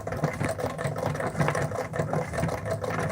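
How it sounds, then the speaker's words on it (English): A treadle sewing machine runs during free-motion quilting, giving a close, steady whir with light rattling and faint squeaks from parts needing oil, continuous and fairly quiet. "The little squeaky noise you heard was the parts needing a little more oil."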